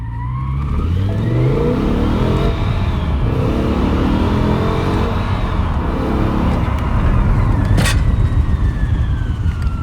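A BMW E60 M5 roars loudly and steadily as it accelerates, its engine note climbing in pitch through the run, with a brief sharp noise near the end.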